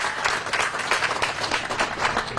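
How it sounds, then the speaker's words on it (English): Audience applause at a press conference launch event, a short burst of dense, steady clapping from a crowd, fairly close and continuous with no speech over it. "Just clap for that one, too."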